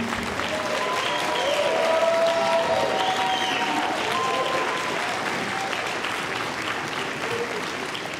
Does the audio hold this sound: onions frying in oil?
no